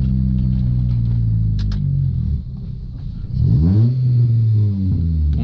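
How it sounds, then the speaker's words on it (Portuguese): A Honda K20 engine with its original exhaust, heard from a car descending in low gear, gives a loud, deep droning rumble that dips briefly, then rises again with rising and falling pitch as the revs change. "O ronco desse K20, galera, ele com o escape original já é um ronco bem legal, velho."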